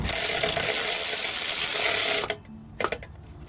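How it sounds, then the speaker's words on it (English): A ratchet tightens the starter bolt on a 2010–2016 Mercedes GL450, giving a loud, rapid run of close clicking for about two seconds, then a few lighter clicks and scrapes. "so this is my ratchet here."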